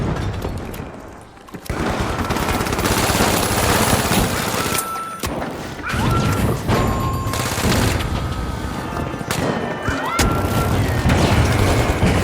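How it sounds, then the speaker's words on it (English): Pyro grenade going off in a shooter video game amid a dense, loud barrage of rapid gunfire and crashing booms that runs almost without pause, with brief dips between bursts. "Pyro grenade out!"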